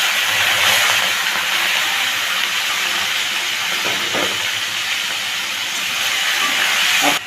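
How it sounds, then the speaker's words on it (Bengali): Marinated prawns dropped into smoking-hot oil give a steady, loud broadband hiss and sizzle that holds for the whole stretch, with no voices over it. "ম্যারিনেট করা চিংড়ি মাছগুলোর মধ্যে দিয়ে দিলাম।"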